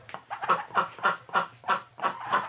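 Ducks in a barn in winter give a run of rhythmic, close quacking calls, about eight evenly spaced bursts, with no one talking.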